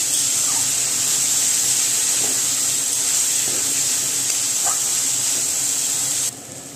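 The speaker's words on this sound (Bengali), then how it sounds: "আলুটা দিয়েও আমি আরও কিছুক্ষণ ভালো করে কষিয়ে নেব।" Fried potatoes sautéing in masala in a pan for a fish kalia, giving a steady loud hiss of sizzling oil that runs unbroken and cuts off abruptly near the end, with no one speaking.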